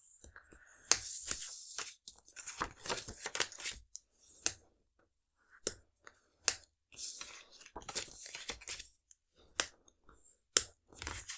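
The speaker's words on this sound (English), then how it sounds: "fold all of my score lines and burnish with a bone folder" Card panels for a triple tier pull-up card being folded along score lines and burnished with a bone folder, giving a series of sharp crisp paper snaps and rubbing swishes, close and irregular, with quiet gaps between.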